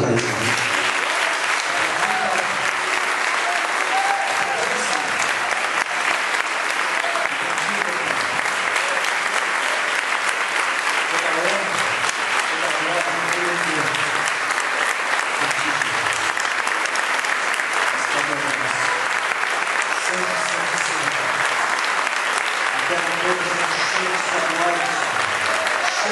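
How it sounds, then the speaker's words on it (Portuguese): A large audience at a church seminar in Rio de Janeiro claps steadily for the whole span, a dense, even roar of hands with no breaks. "Pode aplaudir a Deus e para isso."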